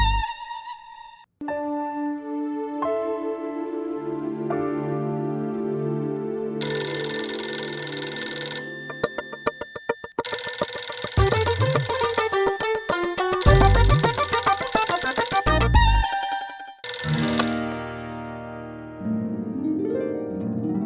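A telephone rings with a bright electronic ringtone, a repeating melodic pattern of tones with brief pauses, loud and close.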